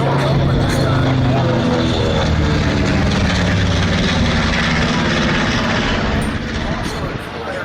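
An SNJ warbird propeller plane at the Miramar air show passes with a loud, continuous engine drone that fades slightly toward the end, with a voice talking over it.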